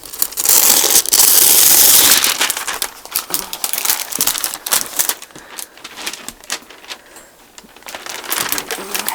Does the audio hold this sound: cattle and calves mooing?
no